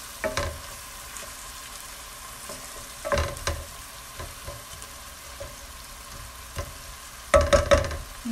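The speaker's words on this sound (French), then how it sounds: "Moi, je vais le faire frire 10 minutes." Cauliflower frying in a pan over medium heat for a cauliflower and egg tajine, a soft steady sizzle broken by a few louder bursts of stirring and clattering near the start, around three seconds and toward the end.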